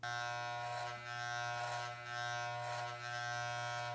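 Electric hair clippers fitted with a number 1 guard run continuously at close range, a steady buzzing drone that dips slightly in intensity about once a second as they pass through hair.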